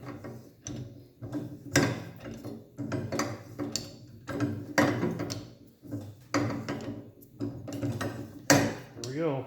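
Rear spring being loosened on a Honda CB750 chopper in an Amen Savior frame, giving bursts of close ratcheting clicks and metallic clanks in an uneven, repeated rhythm.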